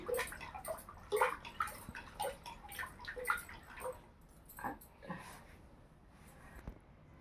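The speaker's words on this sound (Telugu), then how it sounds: "ఇది వెన్న రావాలంటే చాలాసేపే చిలకాలి" Buttermilk being churned by hand to bring up butter, a traditional way of making buttermilk from cream, giving a steady rhythmic run of close sloshing, splashing strokes with short gaps between them.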